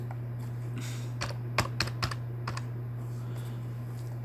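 A few computer keyboard keystrokes, sharp isolated clicks clustered mid-clip over a steady low electrical hum, typed while entering a number into an Excel spreadsheet.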